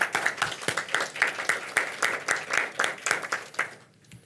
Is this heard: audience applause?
yes